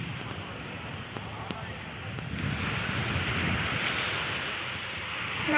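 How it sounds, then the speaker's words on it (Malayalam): Sea waves break on a beach in the morning as a steady, broad surf roar that swells gradually, mixed with gusty wind buffeting the microphone. "ഇങ്ങനെ തിരമാലകൾ പോകുന്നതും വെള്ളം പോകുന്നതൊക്കെ കണ്ടുകൊണ്ടിരിക്കാനായിട്ട്."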